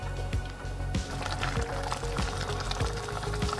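Balsamic vinegar is poured into a pan of simmering garlic and tomato, giving a steady liquid sizzle and bubbling with small crackling pops throughout, close and moderately quiet.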